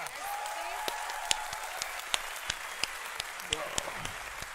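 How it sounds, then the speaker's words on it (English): A crowd applauds steadily with dense clapping at The International 2018 Dota 2 finals, with a few louder individual claps standing out. Voices talk over the applause. "Can we get a round of applause for your TI8?"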